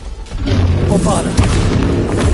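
A Bombarda blasting spell explodes in Hogwarts Legacy on PS5: a dense, rumbling boom that fills the whole moment, with a sharper burst partway through, layered over continuous battle noise.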